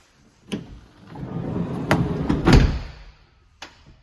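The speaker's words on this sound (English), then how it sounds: "when the door shuts there, it just sucks in the last little bit if it's not shut properly." Sliding side door of a 2021 Volkswagen Transporter Kombi van closing with a soft-close mechanism: a rolling rumble builds to firm thuds as the door is drawn shut, then a final click, heard up close.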